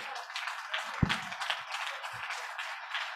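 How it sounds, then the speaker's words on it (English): A crowd at a Women in Rotary event applauds steadily, a dense, even wash of many hands clapping throughout, with a couple of low thumps near the microphone. "Let's give them a big round of applause."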